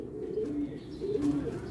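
A racing pigeon coos in low, soft, throaty bursts, close by and repeating over faint background noise.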